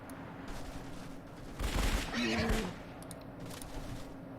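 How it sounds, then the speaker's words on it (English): A faint, muffled musket volley from human musketeers in Age of Wonders 3 rises for about a second over low background hum, followed by a softer crackle, with no talk. "Get the human musketeers to move up, put a shot down."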